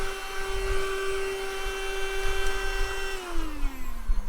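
A Yyton portable handheld car vacuum cleaner runs inside a car with a steady high-pitched motor whine that drops in pitch near the end as the load changes.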